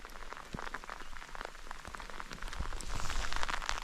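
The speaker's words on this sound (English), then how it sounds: "the rain's really coming down now, and it's cold" Heavy rain falling at a cold camp, a dense, steady patter of drops hitting surfaces close by, growing slightly louder toward the end.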